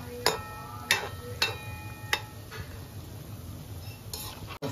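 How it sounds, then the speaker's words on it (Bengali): A metal spatula stirs banana fritters frying in a pan, giving four or five sharp scraping clinks spaced about a second apart over a soft background of bubbling oil. "আমি একটু নাড়িয়ে দিচ্ছি"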